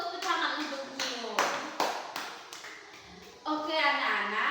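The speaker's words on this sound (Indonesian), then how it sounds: "Tepuk tangan untuk Mio." Schoolchildren in a classroom clap in a few scattered bursts that stop and start, with sharp individual claps and children's voices mixed in close by.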